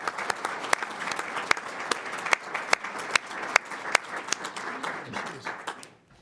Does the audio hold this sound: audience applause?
yes